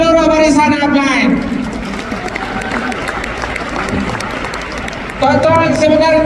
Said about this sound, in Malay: Tepukan sekali lagi untuk seluruh barisan upline.